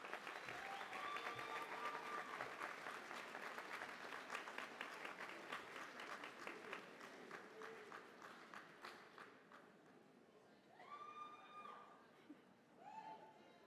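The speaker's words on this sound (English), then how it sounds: "give them a round of applause" A crowd at a college commencement ceremony applauds in a large hall, dense sustained clapping that slowly thins out, with a voice speaking over a sound system near the end.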